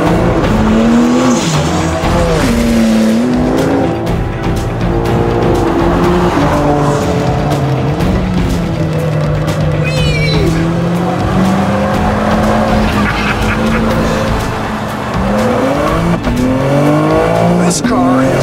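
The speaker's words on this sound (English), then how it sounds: "This car, you can do these sweet little drifts." A BMW M3 Competition drifts, its tires squealing in long wavering tones over a loud, constant engine roar. Someone talks continuously over the car.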